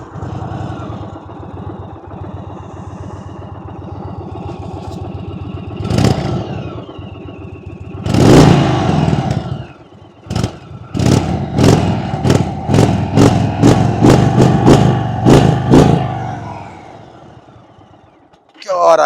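An Indian Chief Bobber Dark Horse motorcycle idles, then its exhaust revs in sharp bursts and a quick run of short blips, loud and close, with someone talking over the idle.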